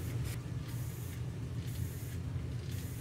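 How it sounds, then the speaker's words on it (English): An aerosol can of primer sprays along a taped panel line on an R/C scale model, giving a steady, close hiss that pulses slightly as the nozzle passes back and forth, with no talking. "I'm going to spray a band along this panel line and along this panel line"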